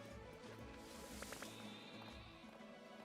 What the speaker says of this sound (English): Sheep, I heard you.